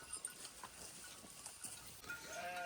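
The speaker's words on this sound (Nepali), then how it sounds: "भेडाहरू" Sheep bleat amid a noisy outdoor background, with a short, wavering bleat rising clearly near the end.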